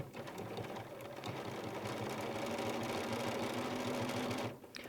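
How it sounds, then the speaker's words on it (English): A sewing machine stitches binding onto a layered quilt with a scant quarter-inch seam, running as a steady, close, continuous mechanical whir and needle chatter for several seconds before stopping abruptly near the end. "We'll start stitching again about 6 inches in from that edge."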